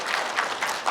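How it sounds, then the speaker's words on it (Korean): A seated audience at a press conference gives a brief burst of applause, a dense patter of many hands clapping for about a second. "다시 한번 큰 박수로"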